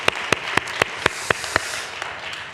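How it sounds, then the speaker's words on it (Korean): Sparse, slow clapping from a church congregation at a late-night worship service, about eight or nine separate sharp claps in an even rhythm over a faint room hiss. "우리 하나님께 영광의 박수 한번 올려드리십시다."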